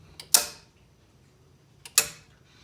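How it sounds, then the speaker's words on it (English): A 1972 GM air-conditioning compressor clutch engages at partial throttle, giving two sharp, close metallic clicks about a second and a half apart against a quiet background. "you'll see the compressor click on and off"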